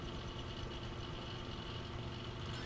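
Helicopter idling on the ground in GTA 5 Online, a steady low engine drone with broadband whine, continuous and fairly close, no talk.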